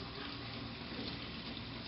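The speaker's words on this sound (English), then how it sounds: "Water came out the other end." Water pours steadily out of a toy during children's water play, a constant close splashing gush with no voices.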